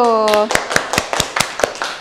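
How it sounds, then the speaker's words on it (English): After a brief voice, a class in an online meeting applauds with sparse, evenly spaced claps, about seven distinct smacks close to the microphone. "Give applause to all of you."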